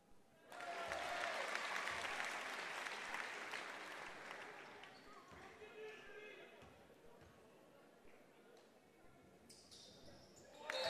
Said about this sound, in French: Applaudissements pour Monique Macani.